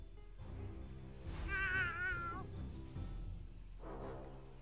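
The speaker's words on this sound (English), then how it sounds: "There's the cat I think we're missing." A cat meows in the video game South Park: The Fractured But Whole, a drawn-out wavering meow followed by a shorter second call, fairly quiet over low background game ambience with no speech.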